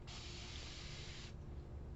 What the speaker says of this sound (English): I also just invested in a new mister.